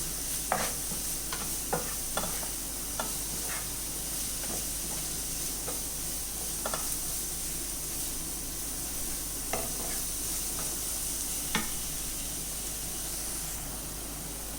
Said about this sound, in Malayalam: ഇത്ര സാധനങ്ങൾ ആഡ് ചെയ്ത് കൊടുത്തിട്ട് നമുക്കിതും കൂടെ ഈ പൊടിയെല്ലാം കൂടെ ഒന്ന് വഴറ്റിയെടുക്കാം.